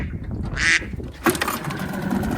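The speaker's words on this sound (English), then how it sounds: "Oh, look, it's a duck." A duck quacks in a short burst on a windy lake, out in the open near a small outboard boat, with low wind rumble running underneath and a sharp knock sounding just after the call.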